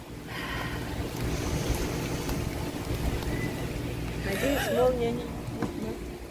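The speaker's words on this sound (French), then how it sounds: "Et là, il pleut vraiment très très fort." Very heavy rain pours down outdoors, a steady dense hiss of drops with a faint whistling tone near the end, continuous and fairly loud throughout.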